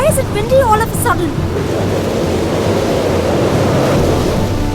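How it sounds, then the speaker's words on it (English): A sudden gust of wind roars steadily as a broad whooshing rush, with a few voices briefly heard at the start. "Why is it windy all of a sudden?"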